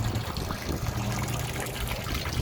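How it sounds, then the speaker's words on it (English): A garden water feature trickles and splashes steadily and fairly close, a continuous wash of flowing water with a low hum of road noise blended underneath. "Of course, my noisy water feature."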